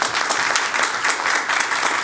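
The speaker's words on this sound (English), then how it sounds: "Maybe a round of applause for our panelists" Steady, dense applause from a conference audience for a crypto task force panel, loud and continuous throughout with no talk over it.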